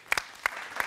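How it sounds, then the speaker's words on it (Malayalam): A few sharp, separate hand claps ring out from an audience at a grand magical circus show, three quick bursts over a faint background hum, with no one speaking. "എല്ലാവരും ചേർന്നൊരു വലിയ കൈയടി."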